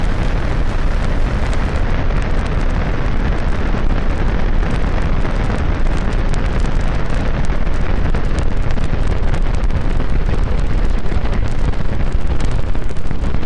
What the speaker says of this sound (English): all 33 Raptor engines came alive. The 40-story vehicle rose from Pad 2 at Starbase.